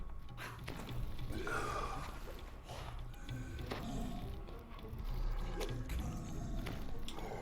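A door being opened in a video game gives a steady run of mechanical ratcheting and clanking for several seconds at moderate volume, over a low background rumble.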